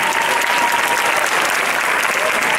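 A graduation ceremony audience claps steadily and loudly throughout, a dense wash of applause filling the hall with no pauses.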